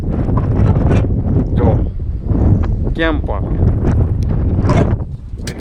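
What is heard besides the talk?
cold wind blowing at an outdoor spot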